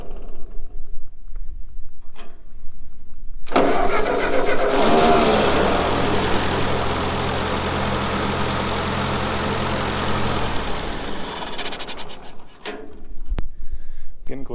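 An old tractor engine with a fuel issue cranks, then catches and runs with a rough, loud mechanical chug for several seconds before dying off, with clicks and clanks before and after.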